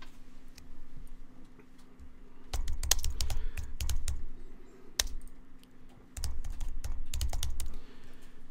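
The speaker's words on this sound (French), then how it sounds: "vous allez taper un deuxième sous-titre" Someone types a second subtitle on a computer keyboard, with bursts of quick keystrokes separated by short pauses and a few louder single key presses, close and clear over a faint steady hum.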